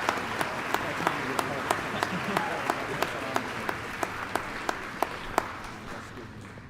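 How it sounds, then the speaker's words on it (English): Applause from the audience at a 2024 Scott High School senior awards ceremony, a broad crowd clatter carried by one or two distinct, evenly spaced loud claps near the microphone, with faint murmuring beneath. "let's give all these guys a round of applause they deserve"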